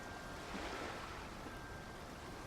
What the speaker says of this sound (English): The waves crash.